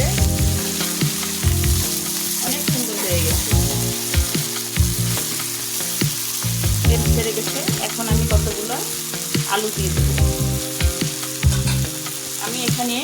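Beef frying in oil in a pan, a continuous loud close sizzle with frequent scraping stirs and clatter throughout, no voices.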